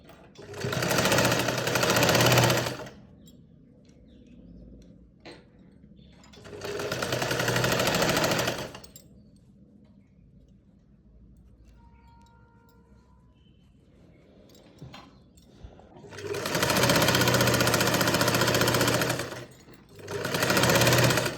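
A sewing machine stitches cloth while attaching a sleeve, in three loud buzzing bursts of a couple of seconds each, separated by near-silent pauses with faint handling clicks.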